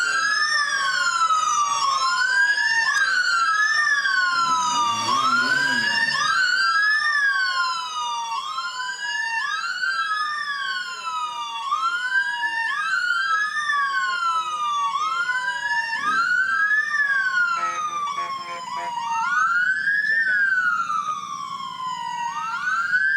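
Police sirens from the Carmel Police Department motorcycle squad wail loudly and continuously as the bikes pass in a rainy community parade, several rising-and-falling tones overlapping, with a brief burst of talk and crowd noise partway through.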